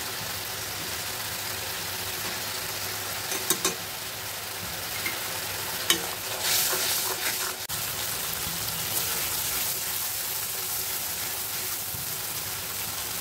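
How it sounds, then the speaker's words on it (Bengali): Salted spice paste (masala) for shrimp bora dopiaza fries in a pan with a steady, close, crackling sizzle, broken now and then by louder scraping bursts as it is stirred; no talking. "দেখেন আমাদের মশলাটা কষানো হয়ে গেছে"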